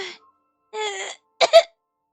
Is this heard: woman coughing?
yes